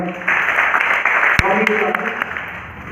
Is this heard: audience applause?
yes